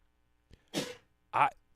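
A single sharp sneeze bursts out close by, preceded by a short intake of breath and followed by a brief voiced exclamation.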